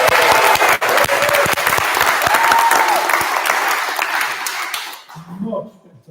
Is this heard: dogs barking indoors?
no